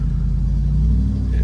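A 1970 Triumph Stag, a manual with overdrive, idles while warming up, giving a steady deep low rumble that stays even and close.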